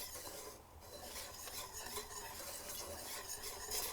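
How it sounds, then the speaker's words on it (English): Steady whisking of a single egg into brookie batter in a bowl, a continuous soft scraping swish at low level with no pauses and no voices. "Whisk that up."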